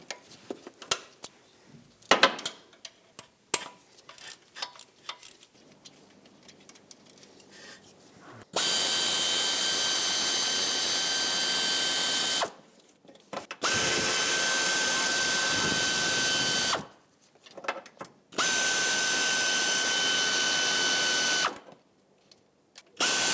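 A power tool runs in three long, steady bursts of a few seconds each, loosening 10 mm water pump bolts on a Honda Civic, with light clanks and handling noises between the bursts.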